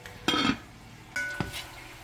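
A lid is set back onto a pot of slow-cooking pot roast beef in a home kitchen, giving two short metallic clanks with a brief ring about a second apart, close and fairly loud.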